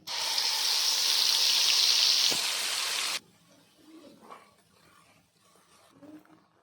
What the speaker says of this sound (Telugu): ఆయిల్ హీట్ అయ్యాక మనం ముందుగా రెడీ చేసుకున్న మసాలాను వేయాలి